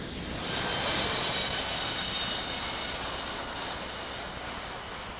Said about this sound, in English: At Show Center, they execute a maximum performance climb out, again demonstrating the extra margin of safety and power of these Federal Express aircraft.